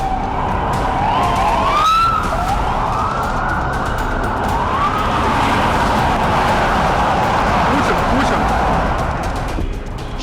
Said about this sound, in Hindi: और फिर आधी रात अचानक पुतिन के काफिले का सायरन गूंज उठा।